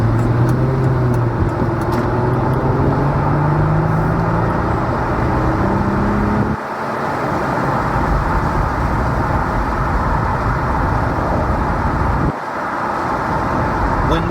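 A car running a liter of VP racing fuel in a full tank of gasoline cruises with the windows down, a steady engine hum and road roar filling the cabin, briefly dipping twice as if between shifts.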